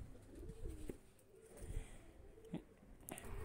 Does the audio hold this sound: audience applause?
no